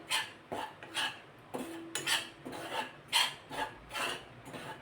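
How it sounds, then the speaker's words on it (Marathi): Wheat flour being stirred and roasted in a pan for laddoos, a spoon scraping and clinking against the metal in a steady rhythm of repeated strokes, close and fairly quiet. "याला सारखा असं ढवळत राहायचं किंवा फिरवत राहायचं म्हणजे पीठ खाली तळाला चिकटणार नाही करपणार नाही"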